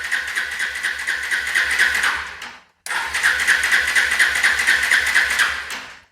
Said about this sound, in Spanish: Vamos a abrir el switch y vamos a dar arranque.